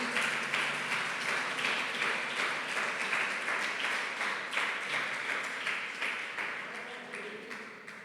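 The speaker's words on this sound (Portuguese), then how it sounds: "Você pode aplaudir o Senhor por esse milagre?" A church congregation claps and applauds continuously, a dense patter of many hands that slowly fades toward the end.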